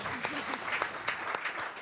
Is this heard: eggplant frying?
no